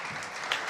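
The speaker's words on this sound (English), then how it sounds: "Big applause for Fran." A conference crowd at a startup summit stage claps in a brief, dense patter of applause with a slight swell just past the middle, no voices over it.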